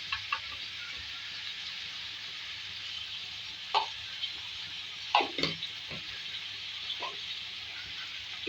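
Chili powder being stirred into potato and cabbage curry in a karahi, a constant frying sizzle with a few scraping spoon knocks against the pan at irregular intervals, no talk.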